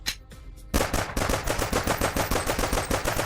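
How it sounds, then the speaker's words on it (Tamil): Rapid burst of gunfire ringing out loud and close, repeated shots in a fast steady rhythm after a brief quieter lead-in, as in a mafia story scene. "அப்படியே டப்புன்னு ஒரு 4-5 புல்லட் இறக்கியிருப்பார்."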